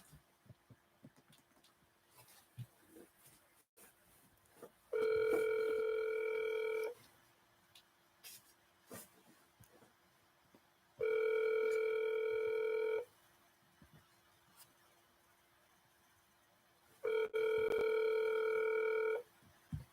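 A telephone ringback tone on an unanswered call, with three steady two-second rings spaced about four seconds apart over faint room noise.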